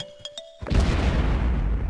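In the Plants vs Zombies Fusion mod, a Doom-shroom detonates with a heavy booming explosion that follows a few short electronic game tones and then rumbles on loudly.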